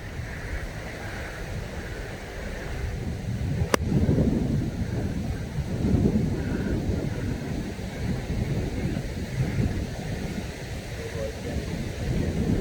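Strong, gusting wind blows across Lydney Golf Club as a continuous low rumbling roar, swelling and easing in gusts over several seconds, close to the microphone.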